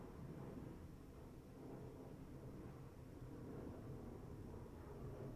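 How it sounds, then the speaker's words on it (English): A loud airplane passes overhead as a broad, steady low roar that fills the whole clip at a constant level, with no voices over it. "That is a really loud plane going by."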